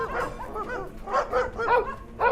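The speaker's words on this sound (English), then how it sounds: "They go full-on freak-out mode, barking like there's no tomorrow." Several dogs bark and yip excitedly in a backyard at night, a cluster of close, repeated barks with brief whimpering tones between bursts.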